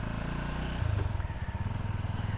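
Sothassi Classic 400 retro motorcycle on a test ride in Pakistan, its engine thumping steadily and close, rising into a rhythmic pulsing beat as it accelerates, with no talk over it.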